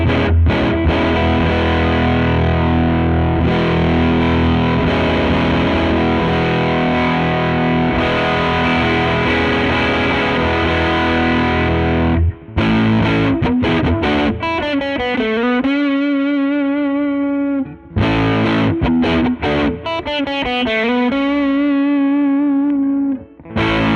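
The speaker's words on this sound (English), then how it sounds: "let's get into some overdrive sounds" A PRS SE CE 24 Standard Satin electric guitar on its neck humbucker, played through a DoD 250 overdrive with volume and gain at noon. Loud, sustained distorted chords ring first, then choppier picked notes and phrases with brief gaps, with no talking.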